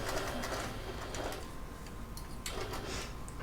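A sewing machine stitches along the edge of a wallet, its fast mechanical whir running steadily and close, with faint clicks and knocks mixed in.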